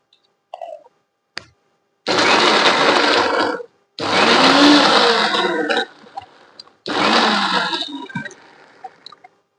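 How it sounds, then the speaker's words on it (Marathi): A kitchen mixer grinder whirs in three loud bursts of about two seconds each as it grinds green chillies into a paste, with brief clicks between runs. "ह्या मिरच्या आहे ह्या काढून घेणार आहे आपण मिक्सर मध्ये. हे पहा, याची पेस्ट करणार आहे."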